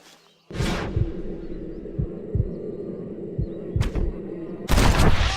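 Gunfire in the video game Red Dead Redemption, fired at a hat: sharp, loud shots burst out at the start, again briefly later and strongly at the end, over a rhythmic low thumping background.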